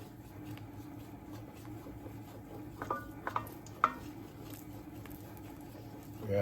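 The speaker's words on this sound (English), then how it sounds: "So I'm stirring it up here," A spoon stirs a frothing cassava curry stew in a pot. Faint scraping and a few soft clinks come over a low, steady background murmur.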